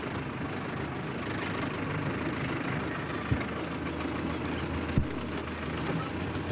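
A 4WD vehicle engine runs steadily in first gear on a hill, a continuous low rumble with two brief knocks partway through and no talk.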